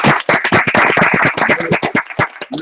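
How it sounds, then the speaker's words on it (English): A small group gives a round of applause, a quick burst of close, sharp hand claps in a rapid uneven rhythm that tapers off after under three seconds. "Thanks for the round of applause."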